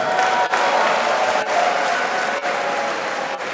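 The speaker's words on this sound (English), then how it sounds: "you better let the governor hear with a loud applause" A crowd at a Lagos political event applauds steadily, dense clapping filling the room at a loud, even level for several seconds.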